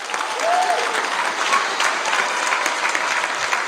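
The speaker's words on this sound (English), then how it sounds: "Massive round of applause, please." Steady audience applause at a high school senior prize giving, a dense wash of clapping from a large crowd lasting several seconds at moderate level.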